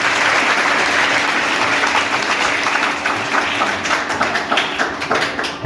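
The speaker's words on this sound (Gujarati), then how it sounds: "તાળીઓ જોરદાર જ હોય છે।" A school farewell ceremony audience at S M Dave High School, Shiyani, claps in loud sustained applause that gradually thins into scattered individual claps toward the end.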